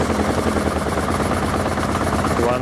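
A 1981 Honda CB750K four-cylinder motorcycle engine revs hard at about 3,000 RPM on choke, giving a loud, rapid staccato exhaust pulse that sounds rough and uneven, as though it is not firing on all four cylinders. It is close and constant throughout.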